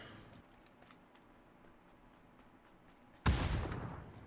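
A grenade goes off in a video game: faint scattered shots tick over a quiet background, then a sudden loud blast erupts near the end and rumbles away slowly.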